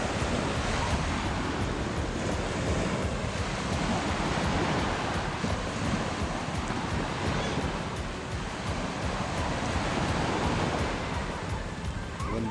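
Sea waves washing onto the beach at Botolan, Zambales, in the Philippines: continuous rolling surf with wind buffeting the microphone, steady and fairly loud with no break.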